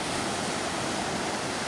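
Steady broadband wash of ocean surf on the beach at Myrtle Beach in the cold early morning, a continuous even roar with no distinct breaks and no voices.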